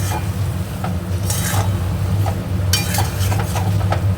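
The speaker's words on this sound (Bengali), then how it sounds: "এবার মশলাটা কষাবো।" Spice masala with coriander and Kashmiri chili powder frying and being stirred in a pan, a steady close sizzle with intermittent scrapes and clinks of a utensil against the pan.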